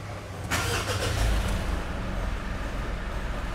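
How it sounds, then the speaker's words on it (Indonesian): A 2022 Mitsubishi Pajero Sport Dakar 4x2 diesel starts by push button, a short crank followed by the engine catching and settling into a steady, close idle. "Terus kita pencet deh tombol start stop engine-nya."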